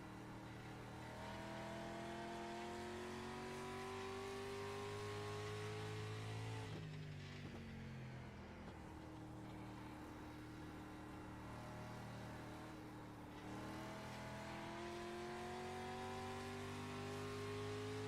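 Street stock race car engines in iRacing at Thompson International Speedway hold a loud, steady drone, rising with acceleration, dipping briefly at corners, then climbing again, with little or no talk.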